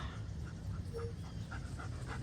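Quiet, rapid rhythmic panting of a dog close by, steady short breaths repeating for a couple of seconds.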